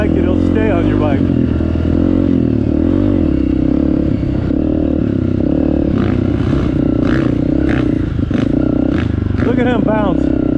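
A dirt bike with a loud, steady engine roar rides a forest trail in Croom, Florida, the engine pitch rising and falling over bumps, while a person talks over it throughout.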